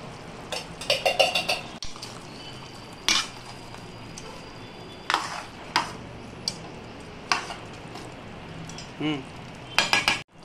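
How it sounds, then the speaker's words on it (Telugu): A spoon stirs yogurt and coconut powder in a metal pot, giving bursts of clinking and scraping, clustered knocks separated by quieter pauses, close and fairly sharp, with no talk. "తరువాత 3 టీ స్పూన్లు కొబ్బరి పొడిని వేసి కలపండి"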